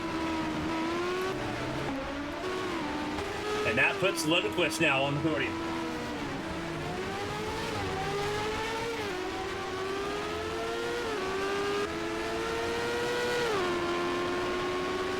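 Champ Car race cars at the Monaco Grand Prix in 2024, a continuous roar of engines rising and falling through gear changes, with a brief burst of higher-pitched activity and commentators talking over the engine noise throughout.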